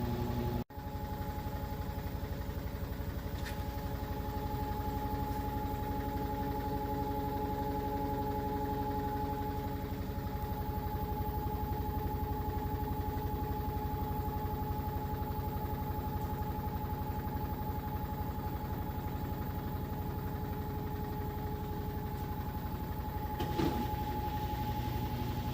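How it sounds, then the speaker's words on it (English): An LG washing machine at full spin, a continuous steady whine with a constant hum underneath, even and unbroken for the whole stretch with only a faint tick or two, moderately quiet and with no talking. "just about finished up this spin cycle. It's been going full blast."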